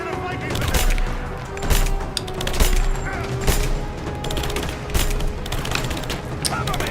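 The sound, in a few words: gunfire in Rise of the Tomb Raider video game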